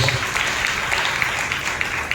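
A congregation claps in a Telugu Baptist church's Sunday worship, a brisk, continuous round of hand clapping with faint rhythmic accents running through the whole short stretch.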